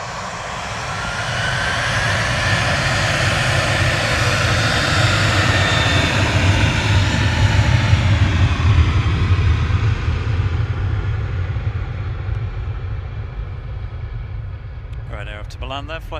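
Airliner departing Manchester Airport for Milan as flight 6818, registration EIDHG, a loud, steady engine roar that builds and then fades slightly over about sixteen seconds, heard close and continuous.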